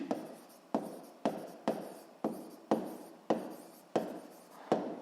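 Writing on a board or paper during a physics lesson, a series of about nine short scratchy strokes, each starting sharply and fading, in a regular rhythm, close and fairly quiet with no talk.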